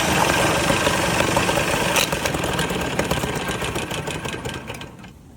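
A 1969 Johnson Sea Horse outboard motor tries to start, a loud, steady buzzing engine drone with a rattly texture that gradually weakens and cuts out near the end, with no talking.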